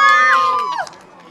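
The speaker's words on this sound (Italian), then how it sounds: "Fate un urlo." School students at a national bowling final shout and cheer together in a loud, close burst of crowd noise with high whoops, fading out toward the end.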